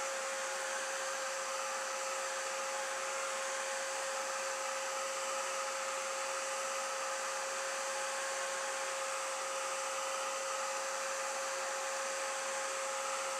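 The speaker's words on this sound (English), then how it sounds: "use my heat gun again. Sorry for the noise." A heat gun blows hot air in a steady, loud, unbroken whoosh that runs the whole time with no pauses. It is used on a Halloween craft piece to speed drying.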